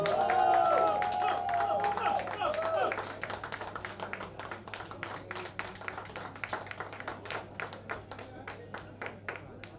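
An audience at the launch event for the EYESFLIX OTT platform applauds: dense, loud clapping at first that thins after a few seconds into scattered, fading individual claps, with some voices underneath.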